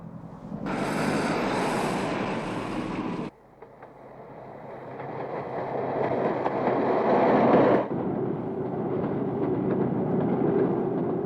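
A loud, steady rushing rumble of a moving train, shifting in tone partway through, with no voices.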